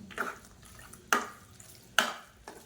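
A spoon scrapes and stirs ghee-fried cashews and raisins into pongal in a pot, giving three or four distinct sharp scraping strokes spaced about a second apart, close and fairly clear.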